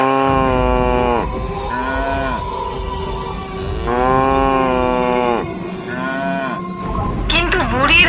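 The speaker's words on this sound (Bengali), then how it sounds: "কোকিলা গরু জোরে জোরে ডাক দিকে লাগে" A cow moos loudly and repeatedly, long drawn-out bellows one after another, close by, with a brief higher call at the end.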